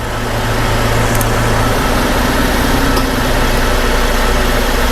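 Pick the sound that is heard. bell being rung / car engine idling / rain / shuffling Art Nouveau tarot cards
car engine idling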